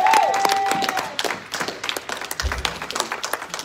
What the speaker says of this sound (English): come on and give God a hand clap of praise